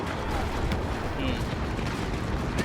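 Explosions and gunfire in a Star Wars Battlefront multiplayer match, a dense, loud rumbling barrage with sharp blasts and bursts scattered through, with a voice talking over it.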